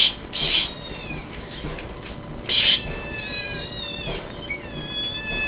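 A pet cat named Ziggy gives a series of long, wavering meows nearby, with brief sharper bursts between them, clear against a quiet room.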